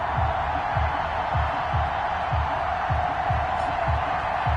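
NFL video game stadium crowd before a Portland Riverhawks versus Denver Broncos match: a steady, dense roar of cheering fans with rhythmic low thumping, under a commentator's voice.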